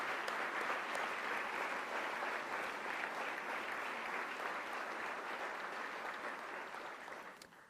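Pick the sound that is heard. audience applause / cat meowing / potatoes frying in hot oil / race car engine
audience applause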